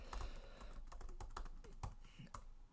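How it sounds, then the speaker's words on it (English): Code being typed on a computer keyboard: quick, uneven clicks and taps of keys close by, soft in level, with no talking over them. "So let's type the code."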